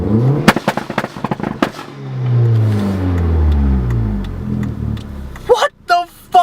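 Volkswagen Golf GTI 20th Anniversary Edition engine heard from inside the cabin, rising in a loud, droning pull as the car accelerates for several seconds, with sharp pops and crackles before it and someone talking around it.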